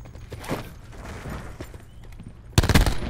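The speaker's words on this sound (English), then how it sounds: "You really shot me." A rapid burst of gunfire from Call of Duty: Black Ops 4 erupts loudly near the end, following a quieter stretch of faint in-game noise.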